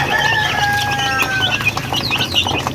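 Chickens cluck loudly and close up in busy, overlapping bursts, with a few higher squawks over steady barnyard noise.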